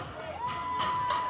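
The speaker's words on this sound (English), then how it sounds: "Crowd goes wild." A crowd at the Wodapalooza 2020 elite team fitness competition cheers and whoops loudly, a continuous roar with a sustained whistle rising through it and swelling bursts, heard close and full.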